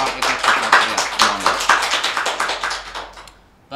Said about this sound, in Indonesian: tepuk tangan dulu untuk Bapak Dr. Eko Supraptya.